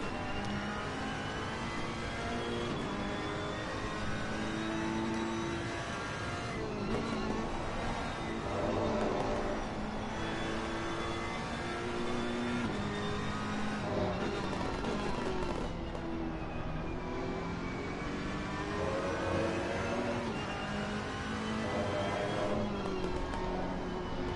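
Sim race cars pass through Crowthorne: engines drone and whine continuously, pitch sweeping as several cars run side by side, loud and close throughout the long stretch.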